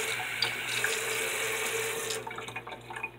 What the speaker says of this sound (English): let's put some water in it and make sure that the squirrel can get some water out of this